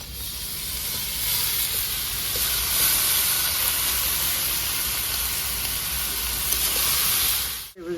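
Shredded cabbage hits a hot pan of fried potatoes and melted tomato, setting off a loud, steady hissing sizzle of steam that runs unbroken before a brief handling bump at the end.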